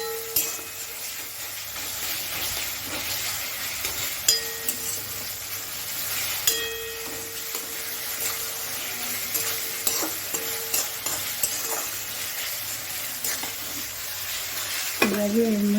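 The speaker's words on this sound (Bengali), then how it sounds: "পেঁয়াজটা যতক্ষণে একটু সোনালি কালার না আসে ততক্ষণ অবধি আমরা পেঁয়াজটাকে ভাজবো।" Onions frying in a pan until golden while being cooked for Bengali matar paneer, with a steady close sizzle and recurring scrapes and clinks of stirring throughout, no voices.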